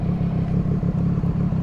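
A Triumph Street Triple 765RS fitted with an SC Project exhaust runs nearby with a deep, steady, throbbing engine note and even pulses, with no voices over it.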